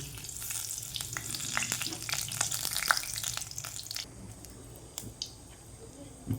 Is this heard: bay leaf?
yes